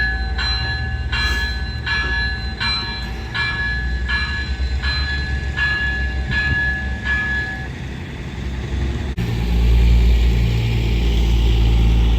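A cog railway train on the Pikes Peak line rumbles along the track while a bell rings repeatedly in a steady rhythm, then stops as the low rumble grows louder.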